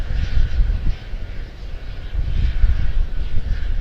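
An American Airlines Airbus A321-231 in Piedmont heritage livery at Charlotte-Douglas airport makes a loud, steady, rumbling jet engine roar close by.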